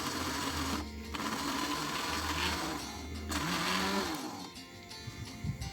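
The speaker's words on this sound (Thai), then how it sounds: "ใช้เครื่อง ปั่นนะคะ ปั่นจะได้ละเอียดมากด้วยนะคะ" An electric blender grinding chili paste ingredients of shallots and garlic: a loud, continuous motor whir and rattle that briefly dips and surges several times, close and alone.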